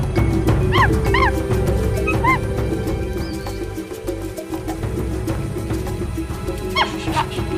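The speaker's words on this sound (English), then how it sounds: "Put him in with the wild dogs." Wild dogs bark and yip in scattered bursts, a few close calls standing out over a loud, steady background rumble.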